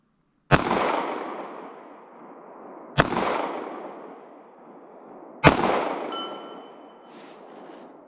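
Three sharp, moderately distant gunshots from a .380 ACP pocket pistol firing Fiocchi defense rounds, spaced about two and a half seconds apart, each with a decaying echo tail. A faint electronic tone sounds after the last shot.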